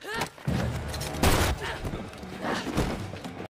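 Gunfire rings out in a tense film scene, with several sharp, heavy blasts and rumbling impacts set against a loud, dense soundtrack and some voices.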